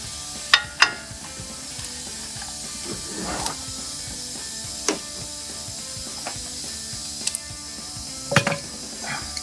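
A 21 mm socket on a breaker bar works the front caliper bracket bolts of a RAM 1500 truck, giving sharp ratchet clicks and metallic clacks in scattered bursts close by, with no talking.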